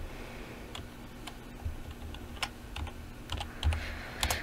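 Quick typing on a computer keyboard while entering a channel name, with close, fairly crisp keystrokes in irregular bursts over a faint background hum.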